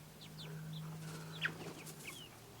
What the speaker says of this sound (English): That's a cool little chicken right there.